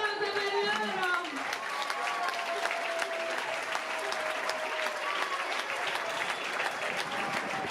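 Audience applause for the Cervia youth football team delegation at the Cervia calcio centenary celebration: dense, steady clapping from a large crowd that fills the whole stretch, with a brief tonal voice or music over the opening seconds.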